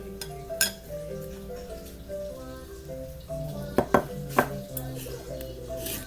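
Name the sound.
mixing mug cake batter with milk and baking powder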